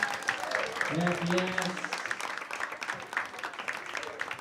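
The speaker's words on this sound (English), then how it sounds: "Clap it up for them." Studio audience applauds eliminated game-show contestants at a live comedy event, a steady patter of clapping running under a host's talking, with some background chatter and voices throughout.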